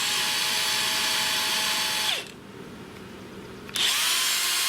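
A DeWalt DCF899B 20V MAX high-torque 1/2-inch impact wrench runs on its second speed setting with a loud, close, continuous whir. It cuts out briefly, then spins back up.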